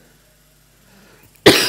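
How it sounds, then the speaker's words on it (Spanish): One sharp, loud cough near the microphone after a moment of near silence. "Perdón, recién salí de una tos"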